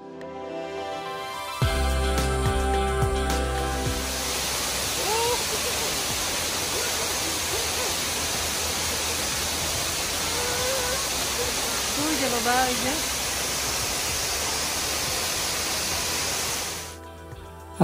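A waterfall in the Korean mountains roars as a steady broadband rush that swells in after a couple of seconds and holds loud and constant until the end, with voices faintly talking beneath it.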